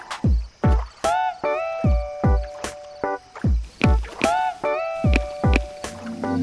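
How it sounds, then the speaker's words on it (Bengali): A rowboat moves across water in an animated Bengali Gopal Bhar cartoon, with about ten evenly spaced, fairly loud oar strokes, each a low thump with a bright creaking, splashy tone, repeating steadily with no talk. "ওই তো একটা নৌকা আসছে"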